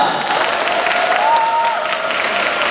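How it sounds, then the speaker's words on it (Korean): Audience clapping at a talk concert event, continuous and fairly loud for a few seconds, with a faint musical tone sustained beneath the applause. "박수를 함께 시작하겠습니다"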